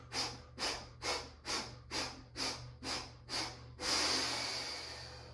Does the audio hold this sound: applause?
no